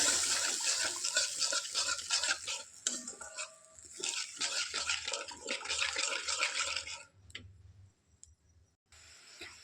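Water is poured into a pan of rohu fish curry, making a hissing splash mixed with clinks and scrapes of a utensil, then tapering to a few quiet taps.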